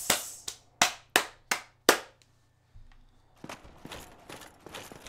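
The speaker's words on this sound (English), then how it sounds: "That was sarcastic clapping" A run of six sharp, widely spaced hand claps, slow and deliberate like sarcastic applause, followed by quieter scattered rustling and clicks.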